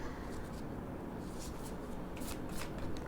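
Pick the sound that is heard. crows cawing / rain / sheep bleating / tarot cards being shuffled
tarot cards being shuffled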